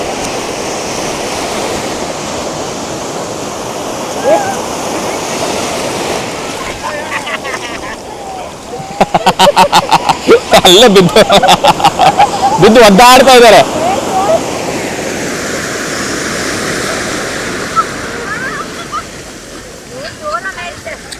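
Strong, higher-than-usual sea waves crash at Panambur beach in Mangalore, a steady roaring surf with wind noise on the microphone, while people talk over it and a louder burst of splashing comes midway.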